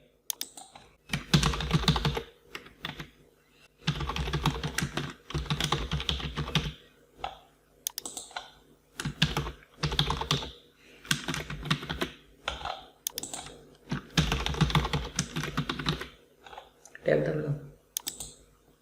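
Someone typing on a computer keyboard while entering staff details into management software, steady close clicking in bursts of rapid keystrokes with short pauses, continuing for a long stretch with no talk over it.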